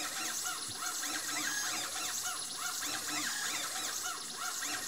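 Stepper motors of a small Turco trainer robot arm running a motion program, a steady whirring whine with repeated rising and falling pitch sweeps as the joints move, close and continuous.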